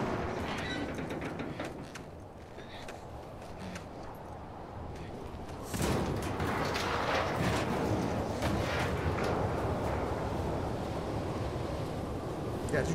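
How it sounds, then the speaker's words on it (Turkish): Storm wind roars in The Last of Us Part II, a steady broadband rush that swells louder about halfway through and keeps blowing hard, with gusty surf-like texture and faint muffled thumps underneath. "Çok rüzgar var."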